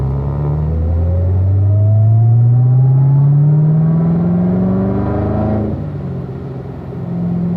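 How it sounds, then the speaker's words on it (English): A car accelerates down a track straight, its engine note climbing steadily in pitch for several seconds before backing off, loud and close with a continuous rumble and no talking. "Accelerate down the straight, and off we go here, Mike"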